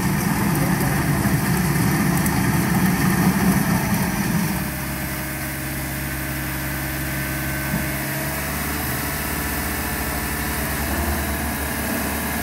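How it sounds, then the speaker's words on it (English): A JCB Pothole Pro's milling attachment digs into a pothole, giving a loud, steady engine drone with heavy low grinding that eases to a smoother idle-like hum after a few seconds and continues without a break. "using its milling attachment to dig into the pothole."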